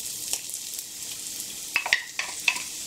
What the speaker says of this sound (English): So let's caramelize the onions. See the stove there? A little bit of butter in my skillet